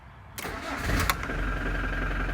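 A motorhome with 52,000 miles, parked unused for about two weeks, starts at once with a brief crank that catches into a steady, close idle.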